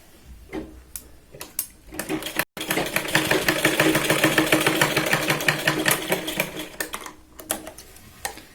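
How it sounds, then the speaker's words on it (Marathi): A sewing machine runs a fast, steady rhythmic stitch along a blouse seam, preceded by a few short start-stop bursts, loud and close with no talk. "इथे 2 ते 3 वेळा व्यवस्थित शिलाई लावून हे पॅक करून घ्या"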